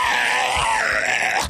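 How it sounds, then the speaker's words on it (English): Eerie, raspy howling and groaning from freakers, the infected creatures of the video game Days Gone, forming one continuous, fairly loud cry that swells and dips in pitch for about a second and a half before cutting off. "the eerie noises of freakers in the distance"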